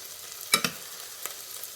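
A spoon scrapes twice through pasta with oregano in a pan, short sharp clinks over a faint sizzle, then a softer tap, quiet and close.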